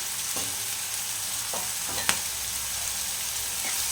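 Prawns seasoned with salt and turmeric fry in hot oil, a steady broadband sizzle with a few soft clicks of stirring against the pan, close and continuous, without talk.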